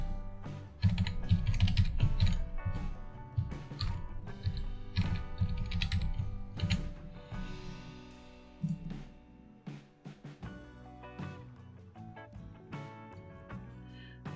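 Keys on a computer keyboard are tapped in quick, irregular bursts, close and clear, while a root password is entered during a VMware vCenter setup on a Dell PowerEdge R640 server, with a brief pause near the end.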